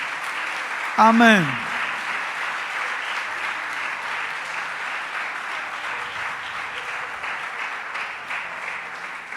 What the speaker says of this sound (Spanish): Dele un aplauso fuerte a Dios.